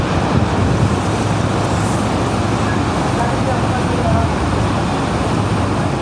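Victoria Falls waterfall seen from the Zambia side near the Zim-Zam Bridge, a loud, unbroken broadband roar of falling water that fills the whole scene without pause.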